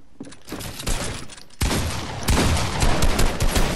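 Gunfire in the Fortnite video game: a dense burst of rapid shots, loud and close, with the firing growing busier and louder after a brief gap, almost no talk over it.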